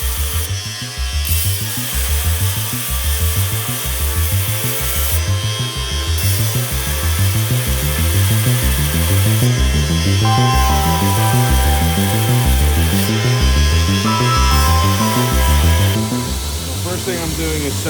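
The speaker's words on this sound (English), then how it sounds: "So now we're going to finish off the grind on the blade" A steel knife blade is ground at the forge, a loud continuous whirring grind that pulses rhythmically, with short shifts in pitch as the blade is pressed and moved.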